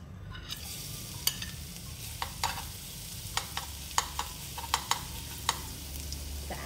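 Minced garlic sizzles and fries in hot oil in a pan. Scattered sharp clicks from stirring ride over a steady frying hiss, and no voices are heard.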